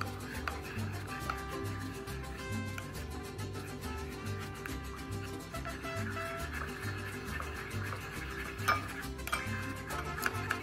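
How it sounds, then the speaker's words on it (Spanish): Sour orange and oil are stirred together in a dish for green spaghetti with grilled steak, a faint, steady scraping and clinking of a utensil against the bowl, repeated rhythmically, with no talking. "Y vamos a mezclar"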